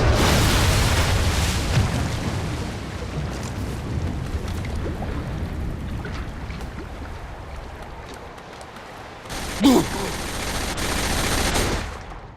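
Explosions and gunfire from the video game Saints Row: The Third: rumbling blasts and rattling shots throughout, with a sharp louder burst near the end, heavy and dense.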